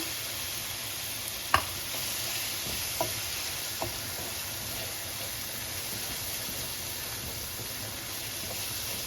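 Chopped tomatoes sizzle and fry in a pan for chicken biryani, a steady close hiss with a few brief scrapes and clicks of stirring, no voices.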